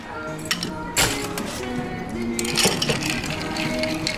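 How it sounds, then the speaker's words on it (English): Ice clinks and rattles against glass as a cheesy-honey cocktail is stirred, close and fairly loud, with a sharp clink near the start and steady jostling after. "So we mix it half-half, 50-50, and let's stir it with ice."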